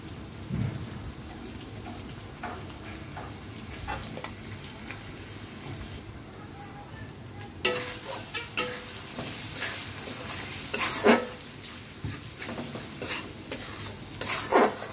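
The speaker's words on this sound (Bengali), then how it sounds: "তো সবগুলো মশলা দিয়ে খুব ভালো মতন কষিয়ে নিতে হবে আর কি" Spices for biryani fry in a pan with a soft, continuous sizzle, punctuated by clinking and scraping stirs that grow louder and denser in the second half, with no talking.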